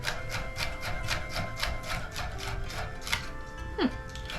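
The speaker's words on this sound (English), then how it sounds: "So that's how you dice celery." A knife dices celery on a cutting board with a quick, steady run of close, crisp taps, under low background noise.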